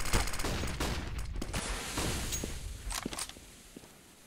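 Gunfire from the Counter-Strike map de_inferno during a Cloud9 versus Epsilon tournament match: loud bursts of rapid shots and sharp single cracks, with footsteps between volleys, fading toward the end.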